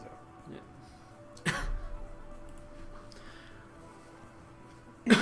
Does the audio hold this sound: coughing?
yes